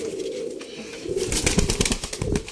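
A tame pet pigeon flutters nearby, close and moderately loud, with bursts of soft wing flapping and faint rustling.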